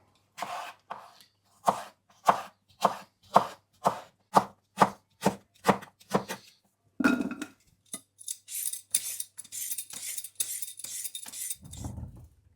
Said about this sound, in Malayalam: ഈ മാങ്ങ ഒന്ന് കട്ട് ചെയ്തെടുക്കുക നമ്മൾ ഇതുപോലെ ഡൈസായിട്ടാണ് കട്ട് ചെയ്യുന്നത്